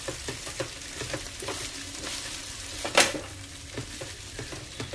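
Garlic and onion fry in a pan for Guatemalan jocon, a soft steady sizzle running throughout with faint stirring clinks and one sharp scrape near the middle.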